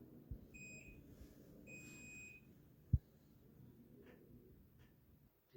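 A multimeter in buzzer mode gives short, thin electronic beeps while probing the board of a Tecno Spark 6 Go phone, two brief tones early on against a quiet room with a single sharp click.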